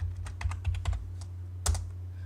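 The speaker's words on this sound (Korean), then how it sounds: "PU 입력하고 엔터 클릭," A command typed on a computer keyboard in AutoCAD, a quick run of close, crisp key clicks followed by a louder single press of the enter key, over a steady low electrical hum.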